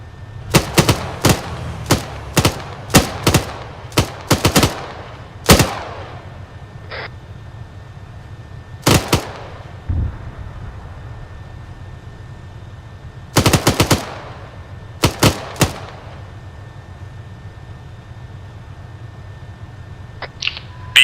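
An armored vehicle's main gun fires in the Arma 3 video game, in loud, sharp bursts of rapid shots spread across the stretch, some in tight strings and others single, with quiet gaps and no speech.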